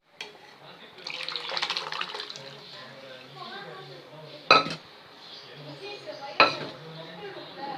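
Dal and tamarind water poured into a pot of cooked vegetables for sambar, with steady liquid splashing and stirring, a few sharp metallic clinks of a ladle against the pot, close by in a home kitchen.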